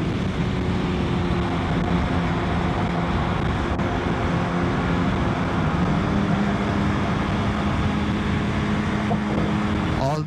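Steady engine note of a Suzuki GSX-S 1000 GX motorcycle on the move, a sustained hum shifting gradually in pitch, mixed with loud, unbroken wind roar.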